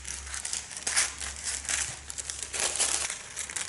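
Scissors trimming around a large paper tattoo stencil, giving close, dry crinkling and rustling of paper with irregular snips and crackles and no voice.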